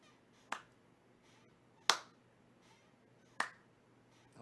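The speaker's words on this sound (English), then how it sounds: "I like those slow motion claps" Three sharp, isolated hand claps spaced about one and a half seconds apart in a slow, deliberate rhythm, each crisp and close with a short decay into near silence.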